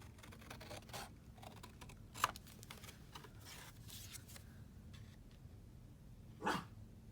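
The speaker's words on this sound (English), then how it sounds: "Oh, there goes my dog." A dog barks twice in a craft room, the short sharp yelps distant and faint, spaced several seconds apart over low room hiss and occasional paper rustling.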